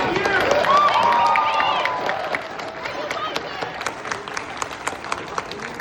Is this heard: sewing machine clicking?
no